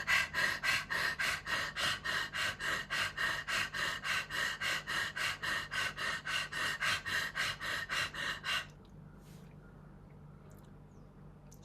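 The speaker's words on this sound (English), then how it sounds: "Swaan means dog. Panting dog pranayam." Swaan Pranayam, a panting-dog breathwork exercise: a long run of rapid, rhythmic breaths through the mouth, about three per second, loud and close. It stops abruptly, leaving a faint hush.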